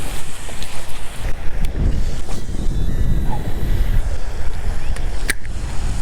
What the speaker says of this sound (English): Wind is really blowing hard to my right, making it hard for me to get close to that shoreline there.